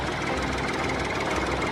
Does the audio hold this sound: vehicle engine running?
yes